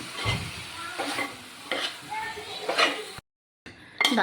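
Food sizzles in a hot pan while a utensil stirs it in repeated scraping strokes, with a short silent break near the end.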